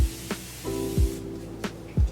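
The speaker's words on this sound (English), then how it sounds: "So now I'm gonna take this Evian facial spray." Several quick hissing spritzes from an Evian facial mist spray, close and fairly loud, with no voices.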